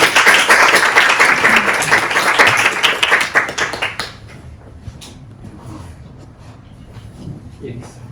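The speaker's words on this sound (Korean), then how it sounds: "우리 강사님을 뜨거운 박수로 모시겠습니다." An audience of Korean expatriates in Hungary claps warmly to welcome a lecturer to a history talk. The dense, loud applause lasts about four seconds, then drops off abruptly to a quiet room with a few stray sounds.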